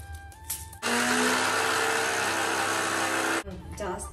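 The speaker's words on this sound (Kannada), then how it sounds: "ಒಂದು ಗೆಡ್ಡೆ ಈರುಳ್ಳಿನ ಮಿಕ್ಸಿಲಿ ಗ್ರೈಂಡ್ ಮಾಡಿ ಹಾಕ್ತೆ" An electric mixer grinder whirs steadily as it grinds onion, a loud continuous motor roar lasting under three seconds. Brief talk is heard just before and just after it.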